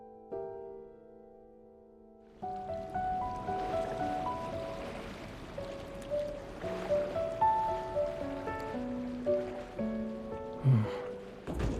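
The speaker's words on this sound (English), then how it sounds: "Listening to the ocean might help us fall asleep." Ocean waves wash steadily onto a shore in Love and Deepspace, a soft continuous surf under gentle melodic music that begins after a quiet opening.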